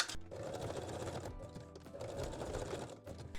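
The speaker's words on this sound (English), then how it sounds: "Then stitch also the second edge of the strap." A sewing machine runs a continuous line of fast, even stitches along the edge of a lace bralette strap, fairly faint and close with a brief pause partway.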